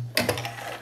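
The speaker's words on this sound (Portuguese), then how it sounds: "passo uma costura para deixar ela certinho aqui na posição" Sewing machine stitching a strap on a loose viscose dress, a very brief close burst of rapid mechanical clicks over a low motor hum.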